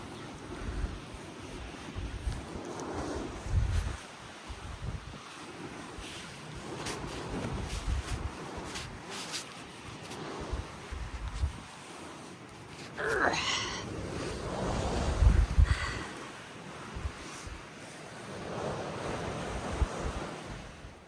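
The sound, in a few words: strong wind on the Pacific Crest Trail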